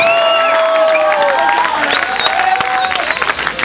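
A live audience at a Hindi poetry recitation at a medical college erupts after a couplet, with loud, continuous crowd noise, clapping and cheering alongside whistles and sung or shouted voices throughout.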